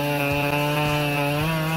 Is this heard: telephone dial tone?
no